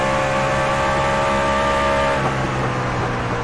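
A racing truck engine drops through the gears in a turn, its loud sustained roar holding steady pitch and then dipping as it downshifts, with no voices over it.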